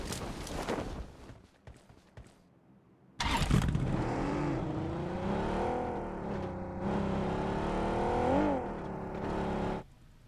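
A vehicle engine in the BGMI mobile battle royale game, heard cranking on after choppy noise, then idling and revving with rising and falling pitch, fairly close and steady until it cuts off near the end.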